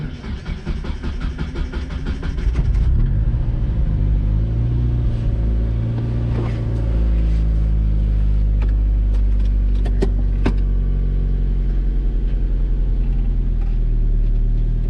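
A cold Mazda Miata engine cranks and catches at about three seconds, then settles into a steady, loud idle and drives off with a low, even engine rumble and a few small clicks.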